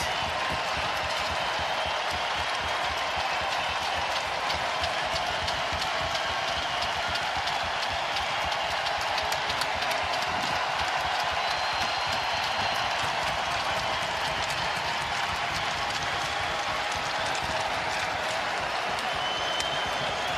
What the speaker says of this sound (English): And he said that Chase got an incredible standing ovation.